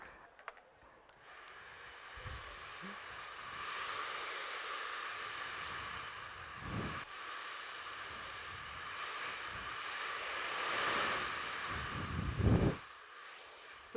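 A hair dryer blows steadily at a salon blow-dry finish, a continuous airy hiss that swells and dips as it moves around the hair, with short gaps where it is pulled away.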